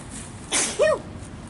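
A single sharp sneeze during a downtown Shakopee walking tour: a breathy intake, then an abrupt, loud burst with a short tonal tail, set against quiet background room tone.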